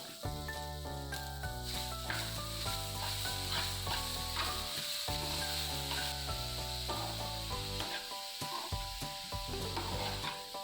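Chopped banana stem is stir-fried with ground coconut paste, giving a continuous hiss and sizzle with stirring scrapes, partly masked by louder background music.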